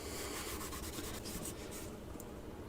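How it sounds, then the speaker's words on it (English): An oiled cloth patch is rubbed over rusty gun metal, producing a close, soft, continuous scrubbing rasp with quicker strokes at first, steady and faint, with no talking. "take a patch, start wiping"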